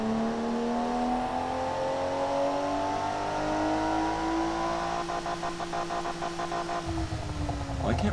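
A simulated car engine in the game Automation revs steadily upward, a smooth rising harmonic whine held for several seconds with a faint voice underneath before the pitch drops near the end.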